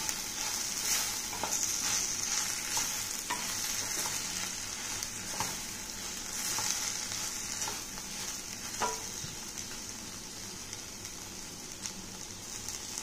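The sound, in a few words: stirring and frying bottle gourd (bendakaya) curry in a pan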